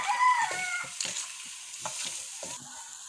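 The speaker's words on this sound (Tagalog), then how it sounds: "And continue stir" Garlic butter shrimp stirred in a frying pan, giving a soft sizzle with scattered utensil scrapes and clinks at a moderate, close level.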